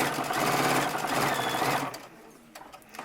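A sewing machine runs in a steady, rapid whirring stitch for nearly two seconds, sewing a straight quarter-inch seam on a medical face mask, then stops, leaving faint clicks and handling sounds.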